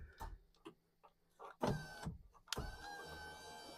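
A Mitsubishi Outlander front door power window motor drives the glass downward, a faint close whine preceded by soft clicks and taps, rising to a steady hum toward the end.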